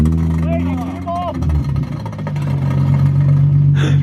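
A Nissan 350Z fitted with a prototype titanium exhaust revs lightly around a steady low engine drone, with people talking loudly over it throughout.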